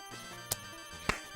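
Pokémon FireRed game audio during a slot machine coin payout, two bright chiming jingle hits over a soft electronic background tone.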